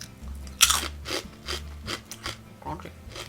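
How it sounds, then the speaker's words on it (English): Onion-flavoured crunchy wheat snacks being chewed close up, a sharp opening crunch followed by a steady rhythm of grinding, crackling bites, with no talk over it. "I like these crunchy wheat snacks"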